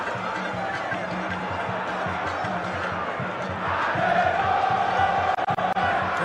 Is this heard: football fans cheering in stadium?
yes